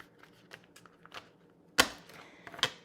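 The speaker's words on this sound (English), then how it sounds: "I'm gonna pull some more cards from the tarot deck" Tarot cards being pulled from a deck, heard as a few light close taps and slides followed by two sharper snapping flicks of card stock, with no talk.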